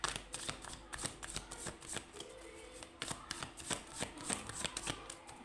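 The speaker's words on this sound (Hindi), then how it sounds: "मैं यहाँ पर जब तक शफल कर रही हूँ" Tarot cards shuffled by hand close up, a quick run of soft riffling flicks and taps in an even rhythm, quiet and with no talk.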